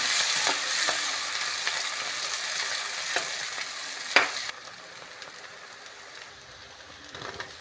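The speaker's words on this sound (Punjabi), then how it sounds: "ਆਪਾਂ ਪਾ ਰਹੇ ਹਾਂ ਜੀ ਇਹਦੇ ਵਿੱਚ ਕੱਟਿਆ ਹੋਇਆ ਪਿਆਜ਼ ਪਿਆਜ਼ਾਂ ਨੂੰ ਵੀ ਚੰਗੀ ਤਰ੍ਹਾਂ ਮਿਕਸ ਕਰ ਲਾਂਗੇ" Chopped onions fry with garlic and ginger in a pan for matar malai curry, a steady close sizzle broken by sharp stirring scrapes and clicks; the hiss drops noticeably partway through, with no talking.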